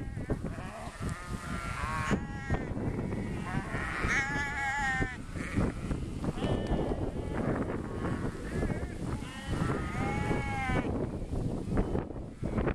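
German sheep bleating outdoors, several wavering bleats at close range, some overlapping, over a steady wind rumble and background noise.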